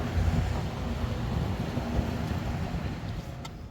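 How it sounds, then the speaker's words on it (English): Steady wind buffeting the microphone beside the ocean on a Florida coast park, a continuous low rumbling roar that stays loud and even throughout with no talking. "that's one thing about being next to the ocean, the wind"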